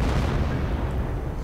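StuH 42 assault gun firing in a World War II strategy game, a single heavy low boom with a rolling rumble that fills the short moment.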